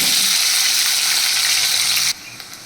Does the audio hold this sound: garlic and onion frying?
yes